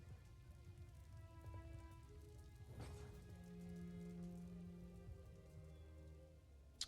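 Steady video game rain in Empire: Total War patters continuously with a low rumbling hum underneath, moderately quiet and even throughout.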